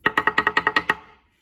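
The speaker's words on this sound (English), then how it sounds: "The break beat is just a quick double beat." A quick Samoan break beat on a drum: eight sharp, evenly spaced strikes in rapid succession, close and fairly loud, ending in a short ringing decay with no voices.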